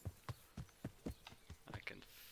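Horse hooves clop in an even rhythm in the video game Kingdom Come: Deliverance, about eight or nine hits in quick succession, fairly faint.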